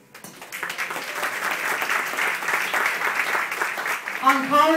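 Audience applause honoring event sponsors at a hosted gala, a steady wash of many hands clapping that swells and holds for several seconds, with a voice briefly rising over it near the end.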